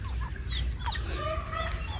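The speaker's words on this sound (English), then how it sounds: "Our breast chickens are doing great." Chickens clucking in a farmyard pen in the morning, several short, overlapping clucks and squawks scattered over a low background rumble, fairly close and moderately loud.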